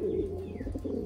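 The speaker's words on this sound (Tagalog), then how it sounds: "Ito siya mga kalapatids. Ang gandang ibon." Taiwanese Wantai pigeons coo close by in a low, steady, throaty murmur, with soft overlapping calls and no talking.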